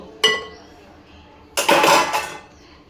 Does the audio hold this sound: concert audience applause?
no